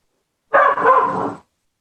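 A dog downstairs gives one short bark, about a second long, that breaks an otherwise silent room.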